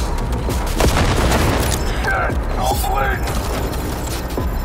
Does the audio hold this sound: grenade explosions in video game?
yes